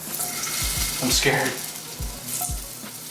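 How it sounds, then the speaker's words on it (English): Potatoes fry in boiling oil with a steady sizzle and sudden crackling pops, as water in them spits against the heat. A voice briefly speaks over the sizzling. "the water in the potatoes are gonna react to the boiling oil and make it go like a little firecracker"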